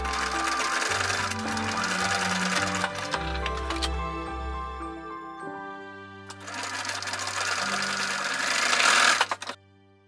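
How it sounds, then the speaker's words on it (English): A sewing machine stitches supporting tapes onto an 1860s-style crinoline skirt, running in long steady bursts with a pause in the middle, loud and close with no talk. "Then I sew the supporting tapes to the skirt."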